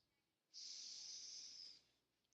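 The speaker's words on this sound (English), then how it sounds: "Can you hear me breathing loud on the mic?" Loud breathing straight into a microphone during an online class: one sustained, hissy exhale lasting just over a second, close and alone with no talk.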